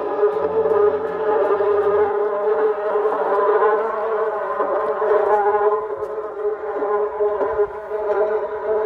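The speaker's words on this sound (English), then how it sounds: "the speakers are energized to produce buzzing bee and tiger roaring sounds" A steady, dense electronic buzzing like a swarm of bees, played from speakers in a railway elephant-deterrent system, loud and continuous throughout, with a low hum fading out early on.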